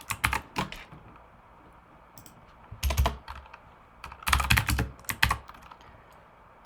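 Code being typed on a computer keyboard, close clicking keystrokes in uneven bursts separated by brief quiet pauses.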